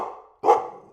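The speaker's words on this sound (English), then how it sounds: "Here comes Danny the dog." A dog gives one short, sharp bark on a farm, coming just after a brief quiet gap and sounding fairly close.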